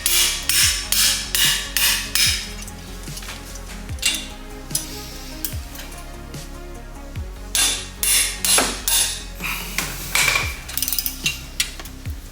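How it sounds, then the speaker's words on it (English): A small hammer taps the brake caliper bracket bolts on a Toyota GR86, in quick bursts of sharp metallic knocks with brief pauses between groups, close and loud with no talking. "I take a little hammer because I always put a bunch of Loctite on this stuff."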